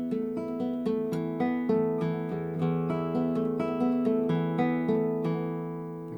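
Classical guitar plays measures 17 and 18 of Leo Brouwer's Etude 6, a steady flow of plucked arpeggiated notes ringing over sustained open strings, close and clear with no talking.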